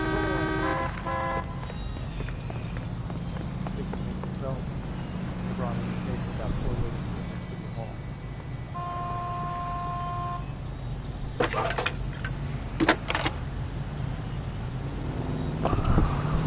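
Street traffic in the L.A. Noire game, with cars passing and several short horn toots in the middle of the stretch, set against a steady city hum and someone talking over it.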